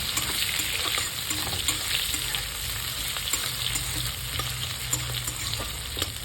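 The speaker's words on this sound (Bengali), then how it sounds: "জিরা, শুকনো লঙ্কা, তেজপাতা দিয়ে ভালো করে নেড়ে নেব।" Cumin seeds, dried red chillies and bay leaves fry in hot oil for a fish-head moong dal, a continuous close sizzle with repeated spatula scrapes and taps against the pan, no talking.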